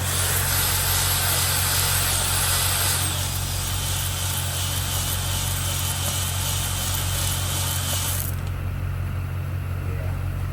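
Hone spinning inside a cylinder of a 6.0 Powerstroke engine, a loud continuous mechanical whir with a steady low hum that runs throughout and drops in tone near the end.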